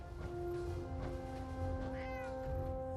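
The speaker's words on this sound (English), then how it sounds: "There's a cat." A cat meows in the Fallout 4 video game, with several short tonal mews over a steady game soundtrack and ambient hum, heard up close with no talking.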